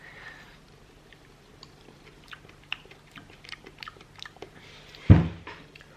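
Someone chews an air-fried grape up close, with soft wet mouth sounds and faint crunching that build to one louder bite near the end.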